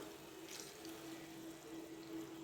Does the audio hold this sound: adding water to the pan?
yes